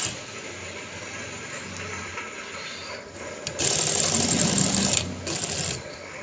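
Sewing machine stitching elastic into the waistband of trousers, a steady mechanical whirr running throughout that grows louder and busier for a couple of seconds in the middle before easing back, with no talk over it.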